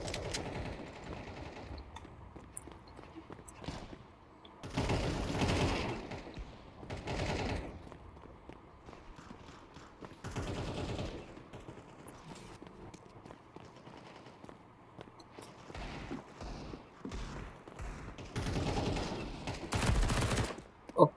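Bursts of gunfire from the video game Counter-Strike 2, several loud clusters of rapid shots spaced through the stretch with quieter in-game ambience between them and no talk.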